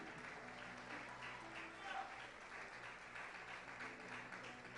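Congregation at a church service applauding, a faint, dense wash of clapping that holds steady throughout with no voices over it.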